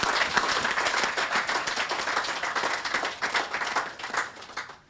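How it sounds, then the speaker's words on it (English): Audience applause at the opening ceremony of an oncology unit, a dense, lively wash of clapping from a sizeable crowd, swelling and dipping before tapering off. "a round of applause"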